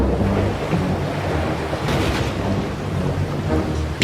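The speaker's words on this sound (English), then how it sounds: "I sent thunder and storm and lightning, waves to overturn the boat and sink the prince." Storm at sea with thunder rumbling over steady heavy rain and crashing surf, waves pounding around a boat; a continuous loud, dense roar with a swelling thunder peak midway.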